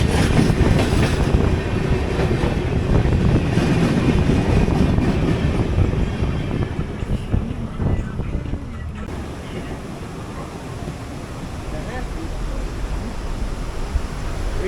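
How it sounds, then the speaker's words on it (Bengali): A train rumbles past on a railway near a bridge at Farakka, heard from a moving car on a night road trip: a loud, continuous roar with rattling that eases slightly after the midpoint. "এই যে ট্রেন যাচ্ছে এখন পাল্টি।"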